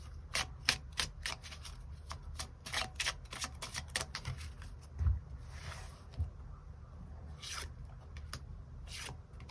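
Tarot cards being shuffled, a quiet run of quick riffling snaps and soft slides in an irregular rhythm, close and alone.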